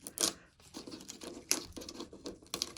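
Construction tape is peeled off in short, scratchy rips and crinkles, close and fairly quiet, coming in irregular bursts.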